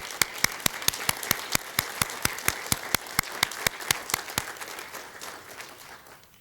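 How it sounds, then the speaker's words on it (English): Applause at a school board meeting, led by one loud, close clapper beating a steady even rhythm over softer background clapping, with the sharp claps stopping after about four seconds and the room noise trailing off. "if we could give them one more round of applause"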